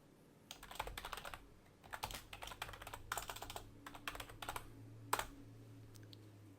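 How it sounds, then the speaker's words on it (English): Someone types a commit message on a computer keyboard, with quiet, close bursts of rapid key clicks, short pauses between runs, and one sharper keystroke near the end. "In order to commit these, we just need to type in a commit message."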